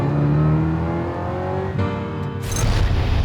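A Ferrari Mondial T cabriolet's V8 engine pulls hard, its tone dropping through the revs before a gear change and a fresh surge, loud and near, with a burst of rushing noise near the end.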